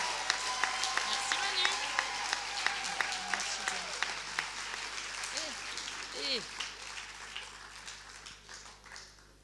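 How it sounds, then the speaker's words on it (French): A political rally crowd in Marseille claps and cheers for Mathilde, a parliamentary group president, a loud dense wave of applause that slowly thins out, with voices calling out over it. "je voudrais qu'on fasse un tonnerre d'applaudissements pour notre amie Mathilde"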